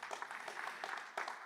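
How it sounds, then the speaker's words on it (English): Audience at a conference hall clapping, a steady patter of applause heard from some distance, fairly soft and even for a brief moment with no voices over it. "Round of applause for them."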